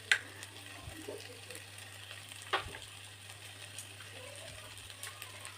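Potato, onion and egg bhurji frying in a pan, a steady low sizzle with occasional soft stirring scrapes and clinks, faint and close, with no voices.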